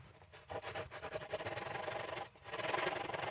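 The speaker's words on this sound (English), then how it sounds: "the easiest way to make this cut with your saw is to establish a kerf along one angle first" Hand saw cutting a kerf into wood for a folding sawhorse, with close, rhythmic rasping push-and-pull strokes that pause briefly before starting again.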